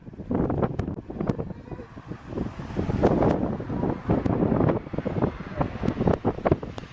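Strong gusty wind blowing during an airplane's landing, loud and close with rough, turbulent buffeting that surges and fades in uneven waves, and no voices.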